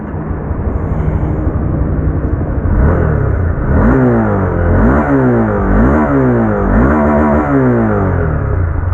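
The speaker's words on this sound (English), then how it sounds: "Just firing the motorcycle now." A Honda CB300F motorcycle engine starts and runs with loud revving, rising and falling in repeated pulls over a steady idle rumble, close to the listener.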